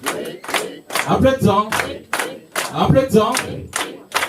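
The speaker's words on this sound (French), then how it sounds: "Applaudissons." A church congregation at an Easter service claps in a steady rhythm, with sharp bursts roughly twice a second, while voices shout and chant along loudly over the whole span.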